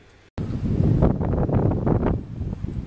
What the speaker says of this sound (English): the wind started blowing right when I started recording